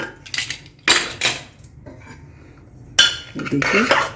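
Metal clanks and scrapes as a pressure cooker lid is handled and opened in a home kitchen after the pressure has been released, several sharp bursts of clattering separated by short quiet gaps, close and fairly loud.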